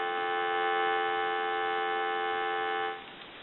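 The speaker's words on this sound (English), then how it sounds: "I'm going to go ahead and give you some dial tone." A steady, continuous dial tone on a Radio Shack Ruby telephone held for about three seconds, then cutting off.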